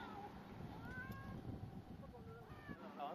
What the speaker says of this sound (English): Yes, he has got a cat.